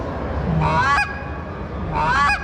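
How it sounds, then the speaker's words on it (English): Two drawn-out goose honks from a call, each rising then breaking sharply at the end, sounding close and loud with a pause between them. "Now, if you want to do a honk."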